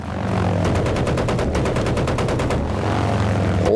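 Rapid machine-gun fire from an aircraft in Battlefield 1943, a loud fast burst of evenly spaced shots lasting about two seconds over a constant engine drone.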